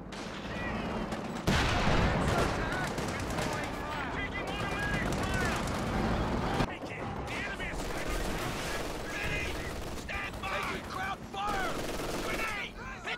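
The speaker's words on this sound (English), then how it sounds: "Easy 8's trying to shoot through the hedges here." Gunfire in Company of Heroes 2 as an Easy 8 Sherman tank fires through hedgerows at a Panzer IV with armoured skirts, with dense bursts of machine-gun and cannon shots continuing steadily alongside battle noise throughout.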